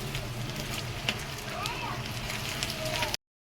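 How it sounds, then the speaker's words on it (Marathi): Eggs frying in a pan at a Mumbai street-food stall for anda pav, giving a steady close sizzle and crackle with a little clatter throughout. "अंडे जे आहे ते यामध्ये फ्राय करून घ्यायचे"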